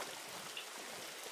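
Rain falls in the Roblox Berry Avenue video game as a soft, continuous hiss of dense drops, even and quiet throughout with no speech.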